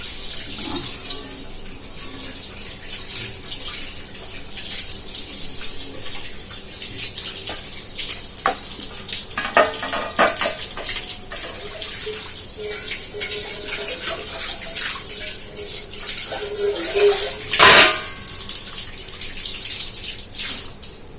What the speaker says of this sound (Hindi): ये 2-3 बर्तन रह गए थे, मैं ये साफ कर देती हूँ इनको